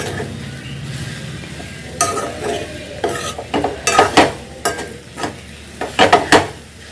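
Gongura leaves fry in a pan while a spatula stirs, bursts of sizzling and scraping clatter in an irregular rhythm over a low frying hiss, close and fairly loud, without speech.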